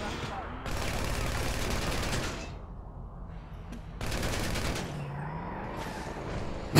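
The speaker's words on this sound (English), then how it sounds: "I'm gonna shoot out your tires" Sustained rapid gunfire in GTA 5 Online, aimed at a car's tires, rattles in two long bursts with a quieter lull between them, at moderate loudness.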